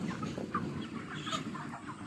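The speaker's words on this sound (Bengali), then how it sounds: "এখানে 500 ব্রয়লার মুরগি আছে" Around 500 broiler chickens about 34 days old clucking together on a poultry farm, a dense near chorus of soft overlapping clucks.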